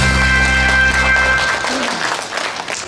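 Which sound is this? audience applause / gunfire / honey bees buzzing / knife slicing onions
audience applause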